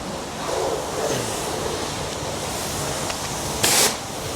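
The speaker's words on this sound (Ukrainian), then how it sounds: "план збити все водою" A steady hiss of a self-service car wash pressure washer spraying water runs throughout, with a brief louder burst near the end.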